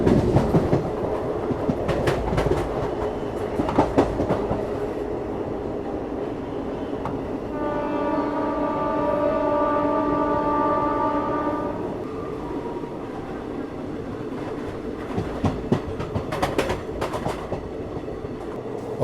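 A Delhi–Howrah special passenger train runs steadily on its tracks near Naini Junction after crossing the Yamuna bridge, with continuous rumble and clickety-clack wheel beats and a long horn blast in the middle, heard from on board.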